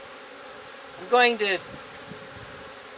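Bees buzz steadily around beehive frames as they are handled, a low continuous drone close by, with a brief spoken word cutting in partway through.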